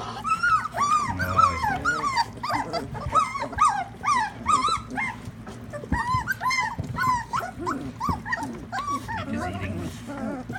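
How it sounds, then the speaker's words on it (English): Large dog eating a meal of raw chicken, cottage cheese and liver, with close chewing and gulping sounds under nearly continuous talk, plus occasional whimpers. "That's how big dog eats."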